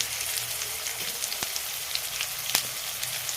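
Onions sizzle and fry in a pan with salt and turmeric, a steady close hiss broken by a few small pops and clinks.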